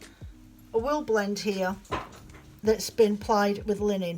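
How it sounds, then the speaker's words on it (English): A dog excited after the postman's visit, whining and whimpering with quick panting and yips in a home, close and fairly loud, running underneath someone talking. "Excuse the dog, postman's obviously just been and he's just about chewed his hand off."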